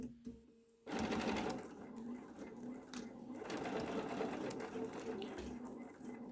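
Sewing machine stitching through several layers of fabric on a face mask, starting abruptly after a quiet moment and running in a steady rapid whirring drone with slight speed changes, close and fairly loud.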